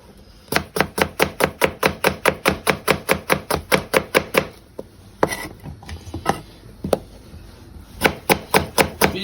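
Onion chopped with a knife on a board, a fast steady run of sharp knocks for several seconds, a brief pause with scattered taps, then another quick burst, close and loud.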